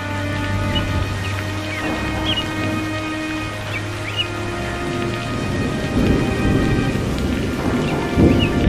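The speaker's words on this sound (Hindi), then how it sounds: "कितना अच्छा मौसम है, बाहर बारिश बारिश हो रही है" Steady rain pours outdoors while thunder rumbles low and continuous underneath, a few faint bird chirps showing through, and the storm swells louder toward the end.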